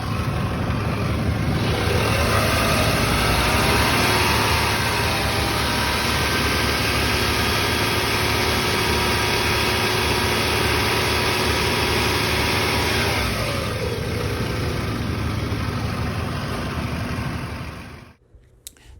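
A car engine held at about 2,000 rpm drones steadily and loudly, up close, for most of the stretch, then drops back and cuts off near the end, with no talking.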